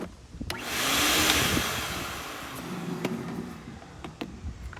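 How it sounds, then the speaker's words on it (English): Air is blown through a swimming pool line to push antifreeze up the pipe while closing the pool for winter, making a loud, steady whooshing rush that swells, then fades into softer blowing with small knocks. "we're going to give it a quick blow just to send the antifreeze up the line a bit"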